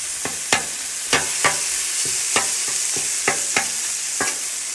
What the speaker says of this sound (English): So you brown this meat up, whether you're using beef or pork.